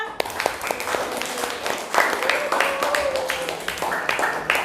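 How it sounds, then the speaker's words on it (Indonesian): Students in a classroom applaud in a steady patter of claps that runs throughout, mixed with voices talking over it at moderate volume. "Tepuk tangan sekali lagi untuk kita semua."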